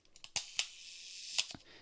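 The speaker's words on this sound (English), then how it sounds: "I was using this old Polaroid lens, which it's an old press photography lens, and it has a self-cocking shutter" Self-cocking shutter of an old Polaroid press photography lens firing, a few sharp mechanical clicks and snaps spaced unevenly over a quiet background, close and crisp.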